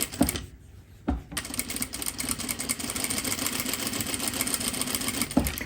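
A sewing machine runs steadily, stitching a second pass along an underarm seam at a 2.5 stitch length, its motor whirring and chattering continuously at close range after a brief pause near the start.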